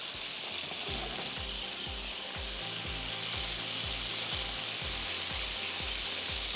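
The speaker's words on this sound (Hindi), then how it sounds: "फिर इसी ऑलिव ऑयल में हम मक्खन डाल के पकाएंगे" Butter cooks in olive oil in a pan with a bright, constant close sizzle and a faint rhythmic ticking pulse beneath it, no voices.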